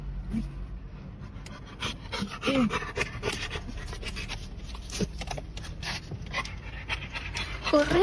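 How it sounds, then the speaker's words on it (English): A dog pants rapidly and steadily inside a car, close and fairly loud, with short rustles and thumps mixed in. "I knew there was a dog in the car and it still made me jump."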